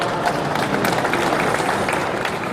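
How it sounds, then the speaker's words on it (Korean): An audience applauds steadily at the 2019 Osong cosmetics and beauty industry expo in Cheongju, welcoming a provincial council deputy speaker, a dense even wash of clapping that holds at one level throughout. "박수로 맞아주시죠"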